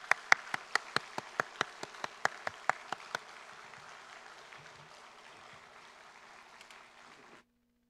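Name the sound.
audience applause welcoming a performer in church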